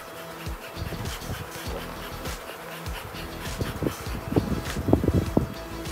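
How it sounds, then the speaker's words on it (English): Honey bees buzz around an opened hive while the colony is split for an artificial swarm, a busy, uneven drone with close individual fly-bys and scattered thumps growing louder toward the end. "These bees really want to get at the queen"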